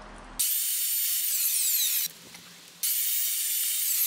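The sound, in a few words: chop saw trimming the end of a wooden board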